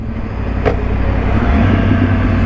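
A 2013 Yamaha R1 motorcycle riding, its engine a loud, steady rumble with a brief blip around a missed gear shift, heard close and continuous.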